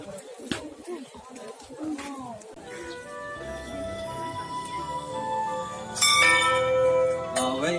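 Temple bells at Barahi Temple by Fewa Lake in Pokhara, Nepal ring out with sustained metallic tones that build louder toward the end, while someone talks over them and pigeons coo faintly nearby.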